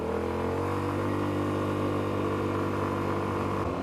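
A Yamaha Tricity 155 three-wheeled scooter engine hums steadily while riding on a mountain pass road, a close, constant drone with wind noise and no talk.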